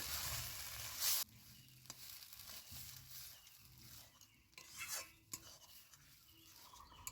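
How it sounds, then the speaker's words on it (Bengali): Cabbage curry being stirred in a pan after rice flour water is added, cooking on low heat with bangs and scrapes of a spoon over a soft steady sizzle. "এখন দুই মিনিটের জন্য আঁচ কম দিয়ে এভাবে নাড়তে হবে"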